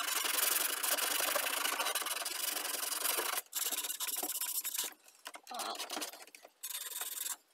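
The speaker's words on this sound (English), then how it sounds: "we're going to take just a little bit of sandpaper" Sandpaper rubs rust off metal parts of a vintage Diamond D-77 tape echo unit, making close, loud, raspy scratching strokes that come in a steady run and then break into shorter bursts with brief pauses.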